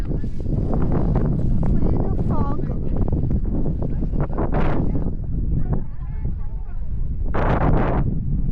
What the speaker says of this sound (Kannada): ಇಲ್ಲಿ ತುಂಬಾ ಗಾಳಿ ಬರ್ತಾಯಿತ್ತು